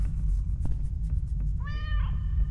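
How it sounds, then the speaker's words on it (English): A cat in a video game gives one clear, drawn-out meow partway through, over a steady low rumble of background hum, with no talk. "Cat sounds good."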